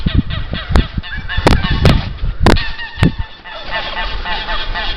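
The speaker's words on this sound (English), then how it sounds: "Chicken!" Loud honking calls from a flock of farmyard fowl, with several sharp, bursting cries over a continuous chattering background of birds, close by and without speech.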